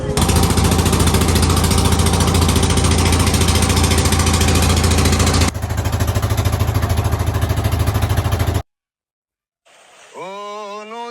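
A trawler boat's engine runs loud and close with a steady, rapid chugging throb for about eight seconds, then cuts off abruptly; after a brief silence, a song begins.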